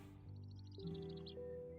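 A bird in the video game Pax Dei gives a quick run of faint, high chirps over a low, steady ambient game tone.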